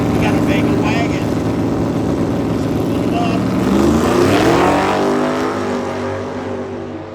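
A Chevrolet Camaro and a Chevrolet Vega wagon run at a drag strip, engines roaring loudly and close, revving up and sweeping in pitch before fading toward the end, with a voice heard over the engine noise.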